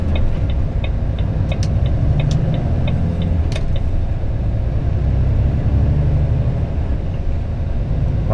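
A truck carrying heavy international freight drives along the road in France, its engine a steady low rumble throughout, with faint rhythmic ticking above it and no talking.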